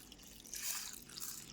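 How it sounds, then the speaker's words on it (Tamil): Water is poured over urad dal left to soak, a soft, faint hissing splash that swells and fades over a second or so. "தண்ணி ஊற்றிக்கலாம்."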